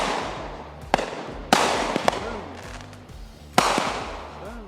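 Fireworks bursting in North Carolina, three loud sharp bangs spaced a second or two apart, each trailing into crackle and rumble, with a faint voice in the background.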